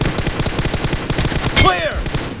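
Bursts of rapid automatic gunfire ring out in a BGMI team deathmatch, a fast close-up fusillade of shots running through the whole moment with a louder crack near the end.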